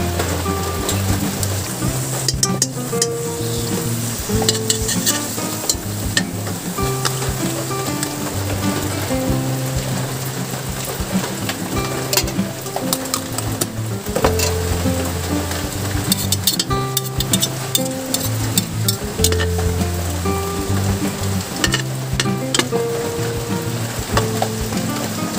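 Margarine sizzles and crackles steadily in a hot pan at the start of cooking spaghetti sopas, close and continuous, with occasional clinks and stirring under it.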